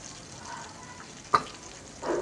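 Egg and potato curry with turmeric and salt being stirred in a sizzling pan, a low steady frying hiss broken by a sharp spoon scrape and a louder stirring swish near the end.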